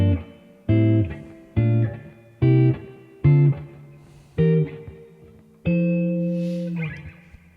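Jazz guitar chords in a progression: seven struck chords in an even rhythm, each ringing and fading before the next, the last one held longer, close and clear with no talk.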